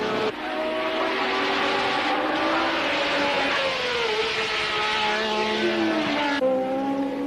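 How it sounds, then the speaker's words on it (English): Formula 1 race cars at Brands Hatch, including a flat-12-engined car running below its full 500 horsepower, scream continuously with high, shifting engine pitches that rise and fall as several cars pass and change gear. "car number 2 with its flat 12 engine is delivering less than its full 500 brake horsepower."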